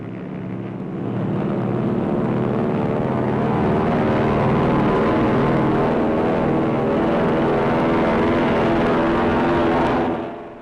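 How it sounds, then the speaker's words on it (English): Navy planes take off from an aircraft carrier at dawn in 1944, a loud, steady engine roar that swells in within the first second and holds unbroken before fading at the very end. "The first planes take off at dawn."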